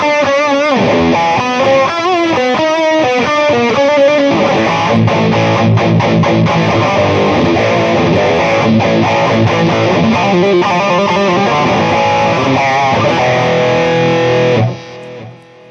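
Jackson Pro Soloist SL2Q electric guitar played through a cranked EVH amp with a little reverb into a Torpedo, giving a loud, continuous distorted tone with fast riffs and sustained chords, stopping abruptly near the end.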